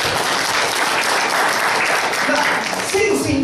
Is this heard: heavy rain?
no